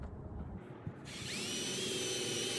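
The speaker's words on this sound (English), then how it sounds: "I'm going to pre-drill this." A power drill bores a pilot hole into thick metal roofing on a school bus conversion, a quiet start then a steady, rising high whine that holds close and continuous to the end.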